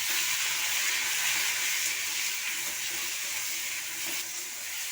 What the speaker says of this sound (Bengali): এবার সবজিটাকে ভেজে নেব